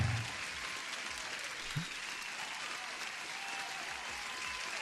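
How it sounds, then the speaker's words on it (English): An applause sound effect plays at a modest level during a live futures day-trading stream, a steady wash of clapping for a new subscriber that holds throughout with a faint low thump near the start. "applause for another new subscriber"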